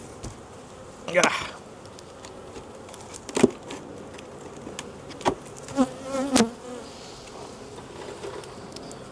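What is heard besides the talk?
honey bees buzzing in a hive box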